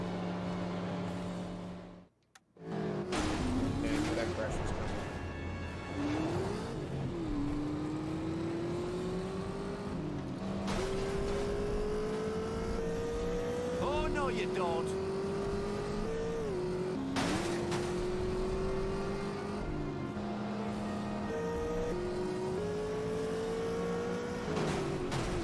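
Race cars in The Saboteur video game drone with a loud, close engine note that climbs through the gears again and again across repeated shifts, with a brief dropout near the start and faint tire noise.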